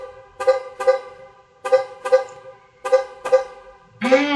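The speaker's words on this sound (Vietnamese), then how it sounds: "Đây là tiếng còi ô tô." A car horn honks in pairs of short toots, three double blasts with brief pauses between them, loud and clear, ending in a longer blaring tone.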